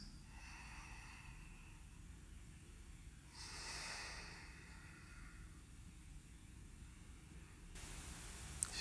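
Slow, deep breathing during a mindfulness exercise, one long soft breath rising and fading in the middle, with a faint hiss throughout and a brief noise at the end.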